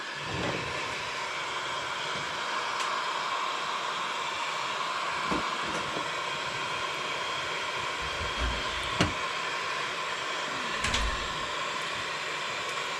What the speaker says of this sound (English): we're going to use a heat gun, apply a little bit of heat.